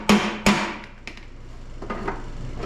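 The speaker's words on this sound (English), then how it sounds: "These are just a little bit distorted, so I'm just giving them a little tappy tap," A hammer taps distorted oil pan gaskets from an old small-block engine flat against a dolly, giving two sharp, close metallic strikes about half a second apart, then softer handling sounds.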